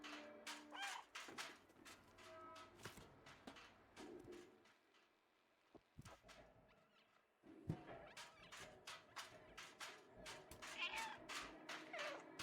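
A cat in the video game Stray meows repeatedly at a door, short calls scattered over a dry room tone with soft thumps and a quiet gap in the middle.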